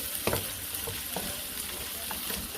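Vegetables fry in a pan alongside chicken and shrimp, giving a steady close sizzle with light scraping stirs and occasional clinks, no talking.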